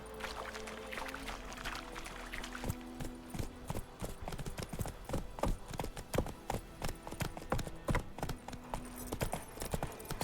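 A horse gallops in The Witcher 3, its hooves drumming in quick, irregular clip-clop beats that grow denser and louder after a quieter start, over a low ambient backdrop.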